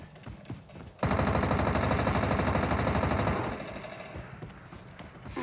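Loud, rapid automatic gunfire in Call of Duty erupts suddenly and rattles for a couple of seconds before fading into a lingering, noisy tail.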